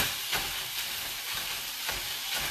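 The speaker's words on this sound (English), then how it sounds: "What I like to do to really mash up my hamburger meat is to use a masher that you usually use for mashed potatoes" Ground beef in a hot pan gets pressed with a potato masher, a continuous loud sizzle broken by soft rhythmic thuds as the masher hits the meat.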